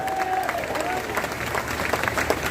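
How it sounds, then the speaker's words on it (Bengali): An audience at a political program applauds with continuous, moderately loud clapping that fills the whole stretch, with a faint murmur of crowd voices underneath. "ওনার জন্য একটা হাততালি আমি আশা করি"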